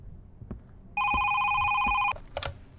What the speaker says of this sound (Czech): A už zase někdo telefonuje,